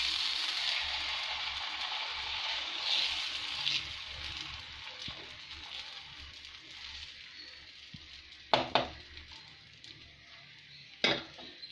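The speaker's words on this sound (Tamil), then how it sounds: "எண்ணெய் தடவிட்டு இப்போ நம்ம தோசை மாவு ஊற்றுறோம்." Dosa batter for spinach keerai dosa poured onto a hot oiled stone griddle, giving a steady soft hiss that runs throughout, with a few sharp clinks and scrapes of a ladle near the end.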